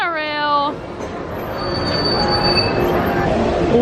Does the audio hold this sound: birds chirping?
no